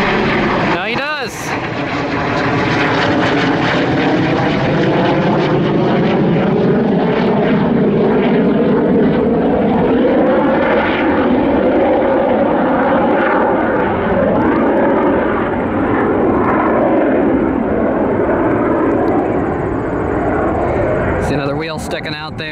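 A T-38 jet trainer in a showy livery roars past at an airport, a loud sustained engine rumble and whine rising and fading across the whole stretch, with people talking over it.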